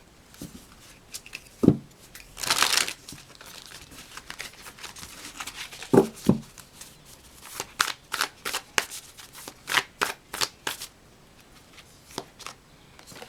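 Tarot cards shuffled by hand, crisp riffles and bursts of card flutter followed by a run of quick, sharp taps and slides, close and fairly quiet with no talking.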